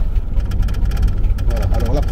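A Willys MB jeep engine runs with a steady low rumble throughout, and a voice rises faintly over it near the end.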